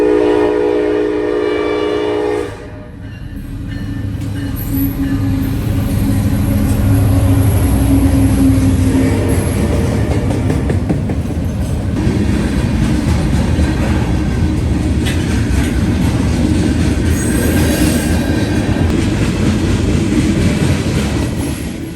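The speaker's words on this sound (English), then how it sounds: "179 heads westbound with two EMDs on the head end, a UPST-70AH and an NS Ace" A westbound Norfolk Southern freight train led by two EMD locomotives, a UP ST-70AH and an NS Ace, passes loud and close with a heavy engine drone and wheel rumble, and a brief horn near the start.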